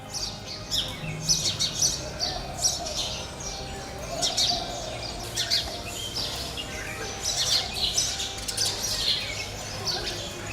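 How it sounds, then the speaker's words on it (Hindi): Many house sparrows chirp and twitter together in busy, overlapping bursts, a lively chorus close by in an old Lucknow home, with occasional soft cooing underneath. "चिड़ियों की चहचहाहट से ये घर गूंजता रहता है।"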